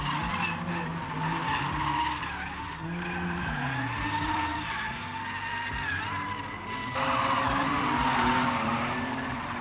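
A drift car skids around a track, its tyres squealing in long wavering sweeps over a revving engine. The sound is fairly close and continuous, with no voices.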